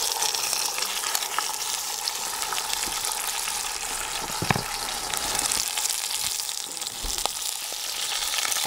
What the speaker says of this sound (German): Und jetzt werden wir hier unser Fleisch erst einmal kräftig ringsherum anbraten.